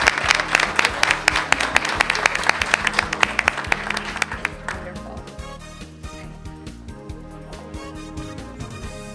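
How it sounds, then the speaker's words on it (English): A room applauds a high school coed cheer team at a village reception. Dense clapping runs steadily for about four seconds, then fades out as tonal music takes over. "just one more big round of applause for all of our athletes."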